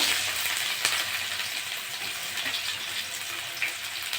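Chopped onions hit hot oil already fragrant with fried whole cumin, left in the pan after small fish were lifted out. A steady, close sizzle hisses continuously, with a few brief crackles.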